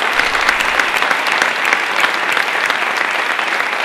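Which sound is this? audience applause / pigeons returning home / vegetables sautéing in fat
audience applause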